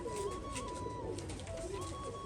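Caged pigeons coo steadily and close by in a loft holding many birds, a continuous murmuring throb with a thin tonal whine running above it throughout.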